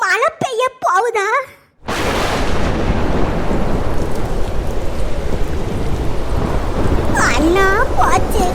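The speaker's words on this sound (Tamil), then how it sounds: "இடி சத்தம் கேக்கு. அப்படின்னா மழை பெய்ய போகுதா?" Cartoon thunder cracks and rolls into heavy, steady rain that fills the scene, preceded by animated character voices and with a voice briefly heard over the downpour near the end.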